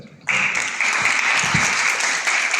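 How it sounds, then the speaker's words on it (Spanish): Audience applause at a university debate tournament, starting abruptly after a brief quiet moment and continuing as a steady, loud wash of many clapping hands. "Fuertes los aplausos, por favor."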